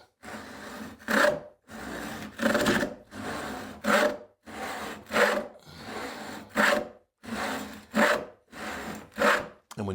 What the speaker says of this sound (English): So what I'm going to do is just rake my saw back at a pretty severe angle and then start sawing.